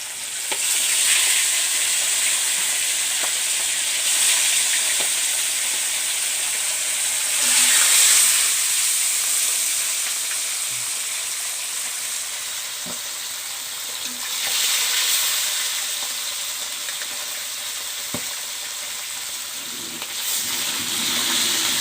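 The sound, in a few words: remaining fish pieces frying in a pan for fish curry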